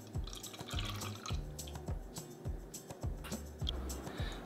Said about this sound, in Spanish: Vamos a marinar el jamón con el jugo.